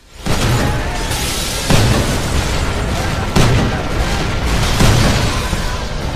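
Explosions and gunfire from the open-world video game Mercenaries, a dense, continuous barrage with several heavy booms standing out at regular intervals over constant crackling battle noise.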